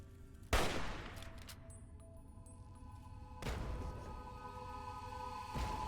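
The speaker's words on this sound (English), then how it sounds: "It set off some explosions somehow." Explosions in Fallout 3 go off as three sharp, booming blasts spaced a few seconds apart, each followed by a lingering rumbling tail, set against quiet game ambience.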